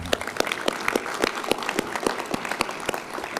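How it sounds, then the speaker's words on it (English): Audience applauding at a county State of the County address: distinct, evenly spaced claps stand out from a softer spread of crowd clapping, a moderately loud burst lasting a few seconds. "You can clap for him."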